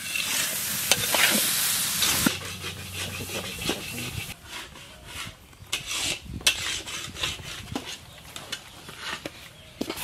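Tomatoes and green chilies fry in a pan while being stirred, giving a soft sizzle under repeated scraping strokes. The sizzle is strongest at the start and settles into intermittent rustling.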